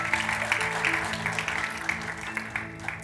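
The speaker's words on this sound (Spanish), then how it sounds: "Denle un aplauso fuerte al Señor porque Él es bueno." Church congregation applauding at a Christian community service, a sustained wash of clapping for about three seconds over a low steady hum, moderately loud and even throughout.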